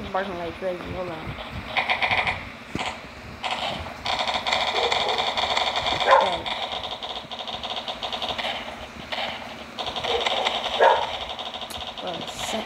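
Repeated dog barks and yips ring out near the microphone while a session of the game Zombie Attack is going on. A low engine-like hum runs underneath, and a person talks through most of the stretch.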